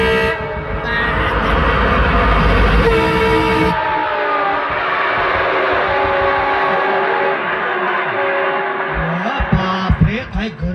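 The Manu Express at a railway station sounds a loud, sustained horn blast, followed by the heavy rumble and rattle of the passing train, with scattered clatter toward the end.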